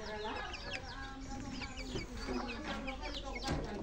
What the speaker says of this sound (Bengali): দেখতে পাচ্ছেন আমার মুরগিগুলো খুব সুন্দরভাবে খাচ্ছে।